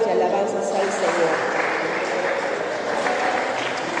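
A church congregation at a family conference claps together in sustained applause, with voices and murmurs mixed in across the whole stretch.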